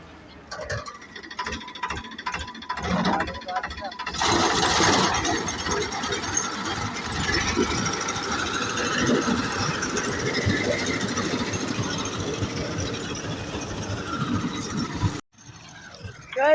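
Tractor-mounted wheat harvesting machine cutting a field, a loud, busy mechanical clatter of rattling gears over a droning engine that runs steadily before cutting off abruptly near the end.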